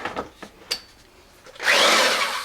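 A few light knocks and clicks, then a reciprocating saw starts up with a loud, harsh, steady buzz as it cuts pine wood held in a vise.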